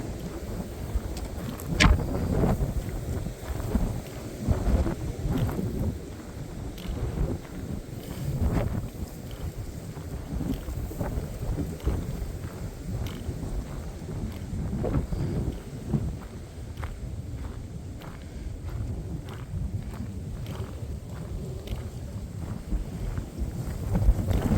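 Strong gusting wind of over 30 mph roars across an exposed hilltop at Hallaway Hill in Maplewood State Park, buffeting the microphone with a continuous low rumble and surging blasts, while occasional footsteps crunch faintly beneath the wind.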